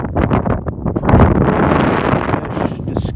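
Strong wind gusts across an open frozen lake during ice fishing, a loud, continuous roar buffeting the microphone with rushing, fluttering bursts and no pauses.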